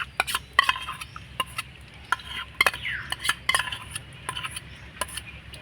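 Spoon stirring sour yogurt into a warm mixture in a bowl, light scraping and irregular clinks and taps, close and fairly quiet, with no talking.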